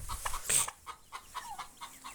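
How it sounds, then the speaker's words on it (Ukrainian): Young chickens cluck softly in a coop, with short, repeated calls at an even rhythm, close but quiet. "Ось наші курятка, які вже великі."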